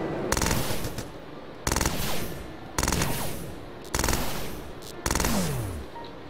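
Bursts of automatic gunfire from enemies in the Starbound video game, five loud rapid volleys separated by brief pauses, close and sharp with no talking.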